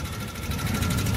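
A car engine running after a DRIVE 9 fuel additive treatment idles steadily up close, a low even rumble with a faint rhythmic vibration.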